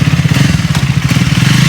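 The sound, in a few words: new superbike motorcycle engine running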